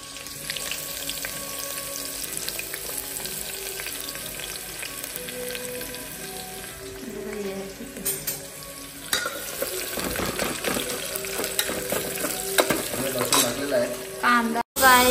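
Onion frying in a pan with whole spices, a steady crackling sizzle that swells louder partway through as stirring and clinking join in, with faint household sounds in the background.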